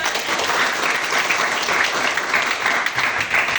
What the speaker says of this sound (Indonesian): Tepuk tepuk tangan.